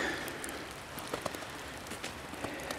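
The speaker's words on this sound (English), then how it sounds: "starting to rain a little bit" Light rain falling in a forest, a soft steady patter with scattered sharper drop ticks over a faint background hiss, gentle and continuous with no voices.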